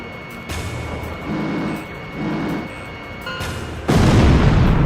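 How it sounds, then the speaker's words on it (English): Missile launch and blast in the Ace Combat Zero flight game, with low booming surges that swell and fade, then a sudden loud, sustained roar of explosion near the end, with no voices. "Golem 1, missile launched."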